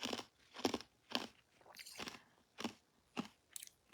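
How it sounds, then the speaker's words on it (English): Someone crunches ice with their teeth in a steady series of about seven sharp, close, brittle bites, each separated by a short pause, with no talking. "Why are you chewing ice?"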